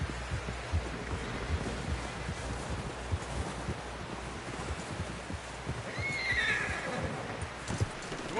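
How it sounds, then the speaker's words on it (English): Horse from Red Dead Redemption 2 whinnies loudly near the end over steady clip-clopping hooves and a low rhythmic game ambience, with wind-like noise throughout. "Someone help John down off this horse."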